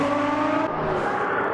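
A Lamborghini race car in Automobilista 2 at the Nürburgring Nordschleife passes close by. Its loud engine whine drops sharply in pitch midway as it goes past, over a second and a half, with no voices.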